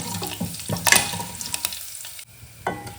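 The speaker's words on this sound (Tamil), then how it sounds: "கடுகு நல்லா பொரிஞ்சிருச்சு பாருங்கள்." Mustard seeds and urad dal splutter and crackle in hot oil with dried chili and curry leaves, bursts of popping over a steady sizzle, with a spoon stirring and scraping and a louder flurry early on.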